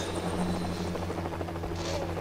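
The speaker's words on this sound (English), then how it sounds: "There's another chopper coming!" Helicopter in the LEGO Jurassic World video game, a continuous buzzing rotor drone with steady low hum throughout, moderately loud.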